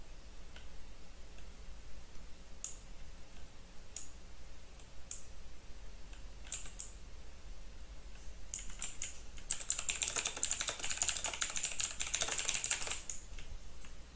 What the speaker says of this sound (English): sometimes I'm recording and I just see the volume go straight up and I'm listening and I'm like, is that my keyboard?